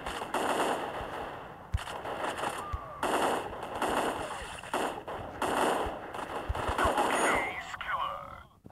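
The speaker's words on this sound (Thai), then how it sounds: "มียิงกัน" Gunfire in the video game Crisis Action: repeated broadband bursts of automatic fire with short gaps between volleys, loud and close. A voice talks over the shooting.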